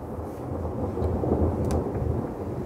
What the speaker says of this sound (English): That was a pretty weak thunder compared to what we saw before